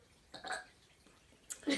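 A young boy lets out short, soft burps after drinking soda, two quiet bursts separated by a pause, heard close up in a quiet room.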